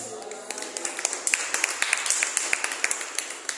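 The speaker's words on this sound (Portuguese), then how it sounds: "uma salva de palmas para Nossa Senhora" A Catholic religious gathering honouring Our Lady claps in a steady rhythmic beat, the sharp claps landing at an even pace and growing fuller after a brief start, with voices underneath.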